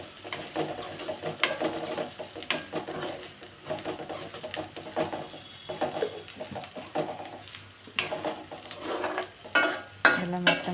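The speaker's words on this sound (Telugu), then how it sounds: "ఇప్పుడైతే కొద్దిగా లైట్గా పసుపు యాడ్ చేసుకొని కలుపుకోవాలి." Turmeric is stirred into a chicken curry mixture in a pan, a continuous busy scraping and clinking of a spoon against the vessel with irregular louder knocks, close and steady throughout.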